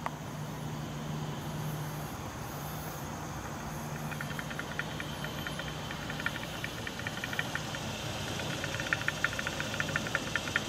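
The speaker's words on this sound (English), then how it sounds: "You hear it spinning the gears in there." A car wheel bearing spinning, picked up through wireless chassis ears, makes a continuous rough mechanical whir and grind with faint rhythmic ticking that builds in the second half, steady and moderately loud with no talk.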